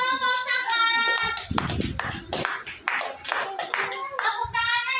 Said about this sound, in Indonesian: Tepuk tangan untuk kelompok saklar.